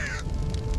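Crows caw briefly over hilly terrain where a convoy was destroyed, a short harsh call set against a rumbling background.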